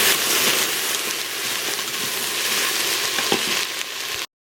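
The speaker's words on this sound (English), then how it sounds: "I'm just browning the sausage now." Sausage sizzles and browns in a pan for a keto soup, a constant loud frying hiss with faint scraping stirs, alone without talk, before cutting to silence at the end.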